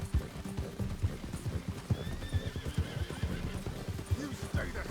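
A horse in Red Dead Redemption 2 whinnies over a steady clip-clop of hooves at a brisk, regular pace, close and fairly loud, with a voice talking over the game sounds.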